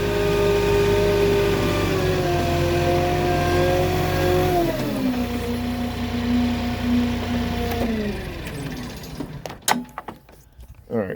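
A flatbed delivery truck engine idles, then revs and shifts pitch as it backs out of a tight spot on rough terrain, droning steadily and close before fading amid clunks and knocks.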